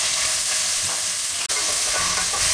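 Long-sliced large onion frying in hot coconut oil in a pan, a steady close sizzle with stirring scrapes running throughout and no talk.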